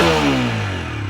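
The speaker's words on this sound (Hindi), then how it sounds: "थोड़ा थ्रॉटल देता हूँ अब मैं।" A TVS Apache 160 4V motorcycle engine is heard close up as a brief throttle rev, its exhaust note falling from a high whine back toward idle.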